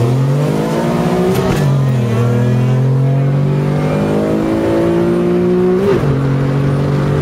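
Car engines rev and accelerate hard in a street race, loud and close, with rising pitch sweeps, a brief drop near two seconds and another rev surge near six seconds.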